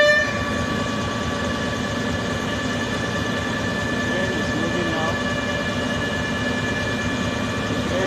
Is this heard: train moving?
yes